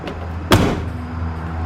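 A car door swings shut with one firm thud, followed by a low steady hum, heard close with no talking.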